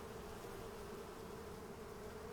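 Bees in a beehive in the video game Rust produce a steady, dense buzzing drone, loud and close, with no other sounds.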